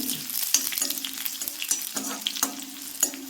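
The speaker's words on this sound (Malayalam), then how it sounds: "ചെറിയ ഉള്ളി മൂത്തിട്ട് നമ്മളിതിനകത്തോട്ട് ഇനി വറ്റൽമുളക് ഇട്ട് കൊടുക്കുവാണ്." Dried red chillies and shallots frying in oil in a pan, a steady close sizzle broken by regular scrapes and clicks of a spoon stirring, with no talking.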